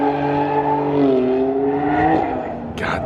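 A modified BMW at the SEMA show revs its loud exhaust, engine note rising and falling in a drawn-out blare, then dropping off with a brief sharp burst near the end.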